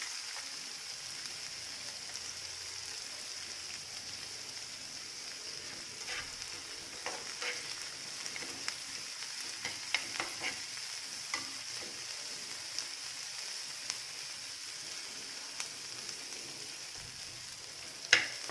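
Onion with garlic frying in oil for a bitter gourd dish, a long, even sizzle with scattered small crackles and pops throughout, close and fairly soft.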